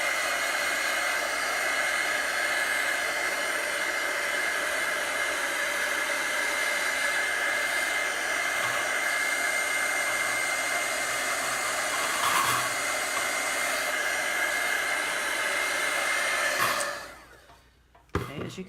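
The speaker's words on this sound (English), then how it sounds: "This is a heat gun." A heat gun drying chalk paste on galvanized tin blows with a loud, steady, even whir close by for most of the clip, then winds down and cuts off near the end.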